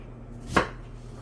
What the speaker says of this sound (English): So we're going to go ahead and cut this up